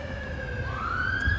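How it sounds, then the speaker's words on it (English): A fire department ambulance siren wails loud and close on a New York City street near Harlem and Broadway, its tone sweeping up and down as it passes over a low rumble of traffic. "The fire department, ambulance."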